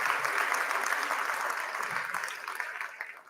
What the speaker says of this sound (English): Can I get a hand clap for those Durham divas, those cheerleaders out there?